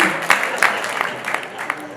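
Audience at an outdoor poetry recital during a Dussehra fair applauds in a scattered burst of claps, close and moderately loud, with a voice speaking over the clapping.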